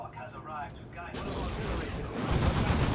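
Side cannons fire in the real-time strategy game Dawn of War 2: Retribution during a 2v2 match, and a burst of rapid, dense gunfire rolls in after a voice briefly talks, growing louder toward the end.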